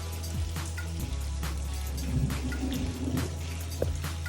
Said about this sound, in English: Ooh, lightning. Here comes some thunder.